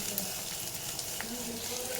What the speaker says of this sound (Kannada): ಸ್ವಲ್ಪ ಫ್ರೈ ಮಾಡ್ಕೊತೀನಿ ಎಣ್ಣೆಲಿ